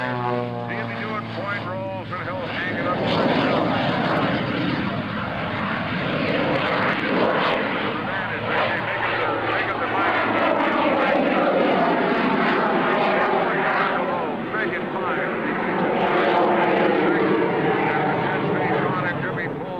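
At an airshow, an aerobatic propeller airplane flying point rolls gives a loud, continuous engine roar that swells and fades as it manoeuvres, with a commentator talking over it throughout.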